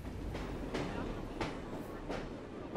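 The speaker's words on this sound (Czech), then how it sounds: "Odjíždí mi vlak!" Train departing in Assassin's Creed Syndicate, a steady rumbling rail sound with a regular clickety-clack rhythm of soft clacks, set under continuous game ambience.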